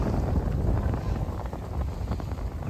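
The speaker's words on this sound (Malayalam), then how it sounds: "ഇത്രയും കാറ്റുണ്ട്. അത് നേരെ മുടി പോയി കിട്ടും." Strong wind buffets the microphone during a boat trip, a steady, loud roar of gusts with low rumble filling the clip and no clear speech over it.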